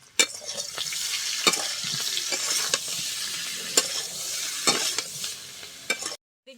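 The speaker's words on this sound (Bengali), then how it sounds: "আলু ভাজাটা হোক" Potatoes sizzle steadily in a hot pan while a utensil scrapes and stirs with sharp intermittent strokes, close and clear.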